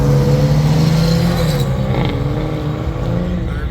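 A Ferrari at a Las Vegas car meet, a loud engine drone with shifting pitch as it moves past, close and dominant over a rumbling background, no voices.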